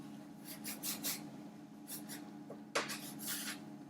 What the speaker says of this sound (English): So I'm just cutting them into strips